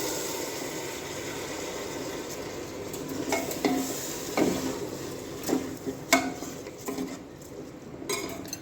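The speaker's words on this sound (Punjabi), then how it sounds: "ਚਾਵਲ ਮੈਂ ਧੋ ਕੇ ਰੱਖ ਲਈ ਸੀ ਤੇ ਹੁਣ ਅਸੀਂ ਚਾਵਲ ਐਡ ਕਰ ਹਾਂ" Washed rice is tipped into a cooking pot and stirred, with soft scraping, a light sizzle and scattered clinks of utensils against the pot. The sounds are close and quiet, growing busier toward the end.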